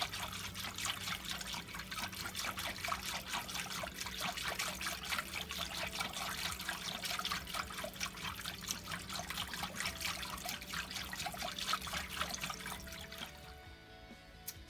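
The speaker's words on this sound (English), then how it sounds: "you're going to add 2 tablespoons of canola oil slowly." A slow, steady trickle of canola oil poured into a pan while cooking elk fajitas, a continuous close liquid stream that runs for over ten seconds before stopping abruptly.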